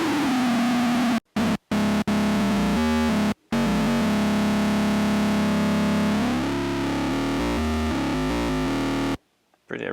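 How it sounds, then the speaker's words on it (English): A heavily distorted Roland SE-02 synthesizer tone drones with buzzing, gritty harmonics, broken by a few abrupt silent gaps and ending in a brief noisy burst. "I really like the distortion."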